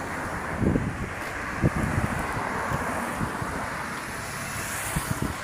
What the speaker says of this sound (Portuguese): Deus fazendo um pouco de vento.